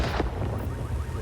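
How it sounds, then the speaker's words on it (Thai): An explosion in the video game Watch Dogs: Legion bursts as a brief, loud, deep boom with a rumbling, noisy tail lasting about a second. "โอ้ยมันระเบิด"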